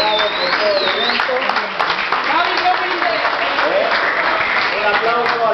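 Applause for the judges at a Yu-Gi-Oh national championship event in Spain, a loud sustained clapping from the crowd with voices and chatter mixed in throughout.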